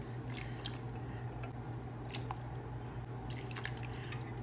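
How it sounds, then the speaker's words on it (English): Four cans of tomatoes emptied into a pot of broth for okra and tomato soup, giving a close, wet, squishy plopping and dripping sound that carries on for several seconds without talk. "I'm just gonna add the 4 cans of tomatoes"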